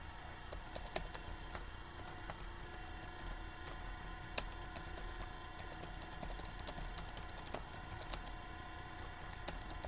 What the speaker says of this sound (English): I'm typing this out as I'm doing it